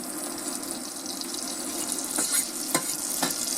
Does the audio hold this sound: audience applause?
no